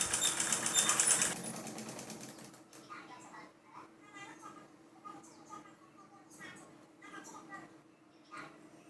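A sewing machine stitching a Punjabi dress gives a short, loud whirring burst of about a second, then falls quiet while someone talks softly with faint handling sounds.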